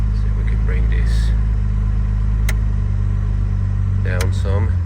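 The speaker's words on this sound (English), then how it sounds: "So once again, it fires right up. So the engine has a very healthy sound to it." A 1961 Jaguar E-Type Series I engine idles steadily in neutral after starting, a loud, continuous low rumble running throughout with a voice talking over it at moments.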